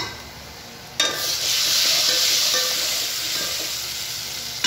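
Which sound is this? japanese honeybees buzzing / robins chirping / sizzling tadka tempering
sizzling tadka tempering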